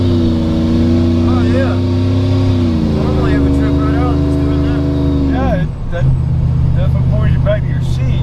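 A Procharged Chevrolet Trailblazer pulling away, its loud engine droning and rising in pitch through gear changes, heard from inside the vehicle, with a brief exclamation from a voice.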